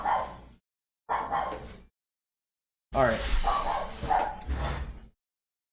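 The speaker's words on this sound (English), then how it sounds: "It's my dog in the background," A dog barking in the background, three short bursts of yapping barks separated by pauses, fairly close and clear, with a brief spoken word in the room.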